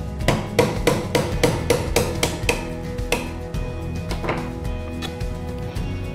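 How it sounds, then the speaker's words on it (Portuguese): A small hammer taps sharply at a craft piece to open a hole, striking about nine quick, even blows close by before slowing to a few scattered taps. "Furei aqui, venho com um martelinho e martelo"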